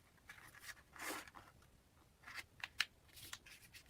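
Origami paper being folded gives soft, faint rustles and crinkles, with a few sharper creasing snaps near the end, close by and quiet.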